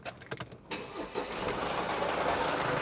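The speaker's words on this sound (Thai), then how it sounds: "เดี๋ยวผมจะลองสตาร์ทให้ลูกค้าฟังเสียงนะครับ" A 2015 Mercedes-Benz ML 250 CDI AMG diesel engine starts up: a few clicks and a brief crank, then it fires and settles into a steady, fairly quiet idle heard up close.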